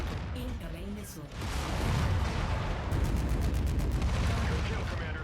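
Incoming missiles exploding in a mech combat video game, heavy rumbling blasts and rapid impacts layered under a speaking voice, dense and loud throughout.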